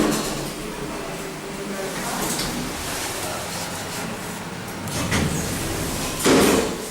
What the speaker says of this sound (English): This door, I like that fast door close.